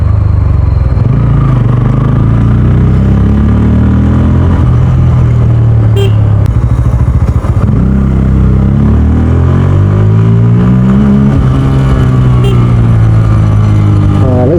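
Bajaj Pulsar N160 motorcycle heard close up while riding, a loud continuous engine drone that rises and falls in pitch as the rider shifts and revs, with wind noise throughout.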